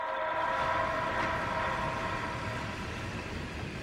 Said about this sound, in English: Charlie and Sarah board another train to Moscow